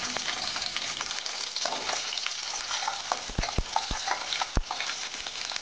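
Garlic sizzles steadily in hot oil for Lasuni Methi, with a few sharp clinks of a spoon or spatula stirring it in the pan near the end. The hiss is continuous and fairly loud, and no one speaks.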